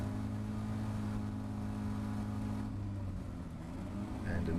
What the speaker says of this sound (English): You are full throttle for a long time here